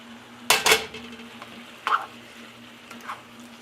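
Drained pasta tossed in a pan with butter and seasoning for a cheesy shrimp and spinach dish: a couple of sharp clattering knocks of utensil against pan, then a few softer scrapes and clinks spaced apart, close by with no talk.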